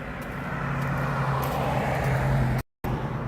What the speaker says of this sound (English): It's a cool Dodge Charger.